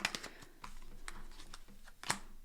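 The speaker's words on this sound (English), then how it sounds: "I feel like I need to shuffle these out a little bit." Tarot cards are shuffled by hand in quick, crisp flicks and taps, a close, irregular patter of light clicks that ends in one sharper snap, with no talk over it.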